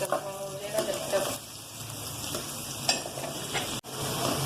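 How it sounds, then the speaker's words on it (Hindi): Onions sizzle and fry in a pan while being stirred, a steady crackling hiss close by with scraping stirs and a brief clunk near the end. "प्याज को हल्का ब्राउन कर लेंगे"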